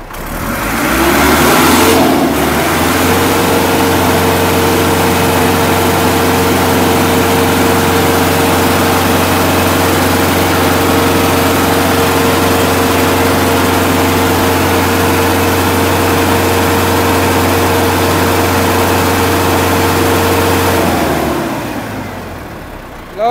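A rebuilt tractor engine runs loud and steady for about twenty seconds, with a deep, constant mid-pitched roar that swells briefly at the start and then holds near idle before cutting off.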